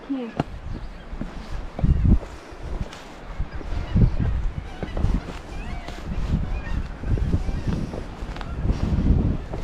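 Gusty wind buffets the microphone outdoors by the sea at Alnwick Cliffs, England, low rumbling bursts rising and falling, with people talking intermittently.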